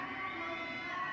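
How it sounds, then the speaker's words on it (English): Esports arena crowd at a VALORANT Masters Santiago match cheering and urging on a player, a steady dense roar of many voices held throughout the short moment. "You can hear the crowd egging him on"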